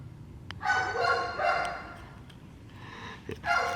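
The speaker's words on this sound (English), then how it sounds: "that dog is wild" Several short barks from a dog at moderate distance, in bursts with brief pauses between them, set against steady low background noise with no talking.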